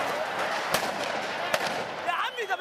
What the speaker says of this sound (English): Gunfire outside the presidential palace in Cairo last December.